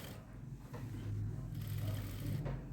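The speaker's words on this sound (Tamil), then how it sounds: "மேலே வந்து லைட்டாக ஒரு தையல் போட்டுருவோம்." A sewing machine stitches a silk saree blouse, a faint, steady low mechanical whirring with a soft rhythmic clatter running throughout.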